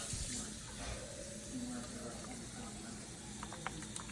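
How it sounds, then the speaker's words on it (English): Water runs steadily from a tap to fill a cooking pot while Jamaican beans are being prepared, a continuous close splashing flow with a few clinks near the end. "Fill it up with water."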